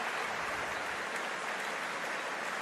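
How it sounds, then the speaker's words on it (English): Large crowd applauding at Coventry Stadium during a Commonwealth Games men's rugby sevens match, a broad distant wash of clapping that holds steady and even throughout. "A warm round of applause from this big Coventry Stadium crowd here."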